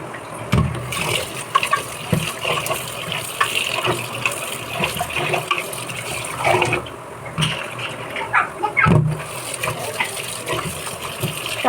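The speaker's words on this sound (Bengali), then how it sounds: "এদিকে চালটা ধুয়ে নিই।" Rice is washed in water, with continuous splashing and running water for several seconds and a few louder sloshes and bumps along the way.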